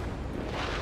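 A missile strikes a fighter jet in Ace Combat 7, a short dense roaring blast that fills the whole moment, loud and continuous without any talk.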